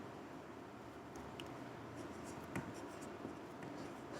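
A marker or chalk scratches across a board during a trigonometry lesson, with a handful of brief, faint strokes and taps over a steady low room hum.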